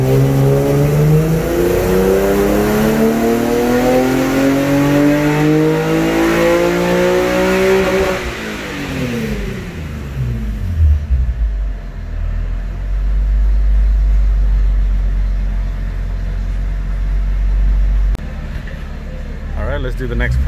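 An Infiniti G37 revving on a dyno, engine note climbing through a long pull for about eight seconds before dropping off, followed by low rumble and lighter engine noise with voices.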